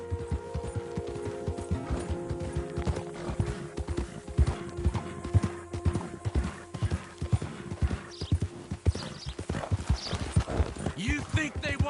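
Steady clip-clop of horse hooves trotting throughout in the video game Red Dead Redemption 2, with voices talking over it and a brief whinny.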